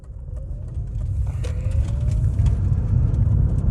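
An electric vehicle run by a ZombieVerter controller makes a full-throttle pull at a 500-amp current limit: a thin motor whine climbs steadily in pitch over a constant low rumble, with no talking.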